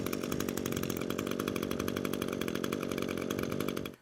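An ECHO string trimmer's small two-stroke engine buzzes loudly at a steady, raspy pitch close by, then cuts off abruptly at the end.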